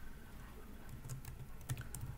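Quiet, steady tapping of keys on a computer keyboard as HTML code is typed, with soft irregular clicks in a close, otherwise silent room.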